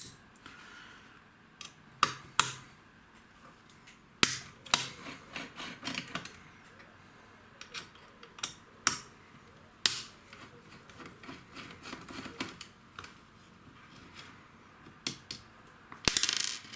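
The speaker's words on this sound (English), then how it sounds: "now we're going to remove the lower handguard cover. Okay, so that's going to be 4 screws" Small 2.5 mm screws are backed out of the lower handguard cover on an AK Storm NGRS airsoft rifle during disassembly. Sharp metallic clicks, light rubbing and small parts clinking sound up close, scattered irregularly with quiet gaps between them and no talking.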